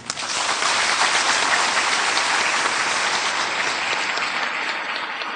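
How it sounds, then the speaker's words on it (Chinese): An audience at an evening gathering for a health talk gives sustained, dense applause, loud and close, holding steady for several seconds before easing slightly. "要以一个最感恩的、最热情的一个掌声，感谢我们拿督跟拿弟。"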